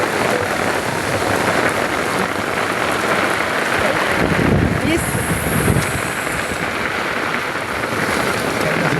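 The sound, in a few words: heavy stormy rain pouring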